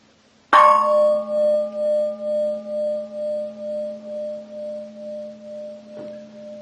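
A gong struck once, a sharp metallic hit followed by a long, steady ringing tone that pulses gently and slowly fades over several seconds, alone and close.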